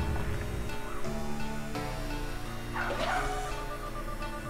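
Dog barking in the zombie video game RegentZ, several tonal barks and yips over a steady game soundtrack, with a whimpering sound near the middle.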